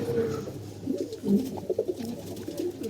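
Pigeons in a cage coo softly and repeatedly, low throaty calls overlapping in a steady murmur close by, with no voices.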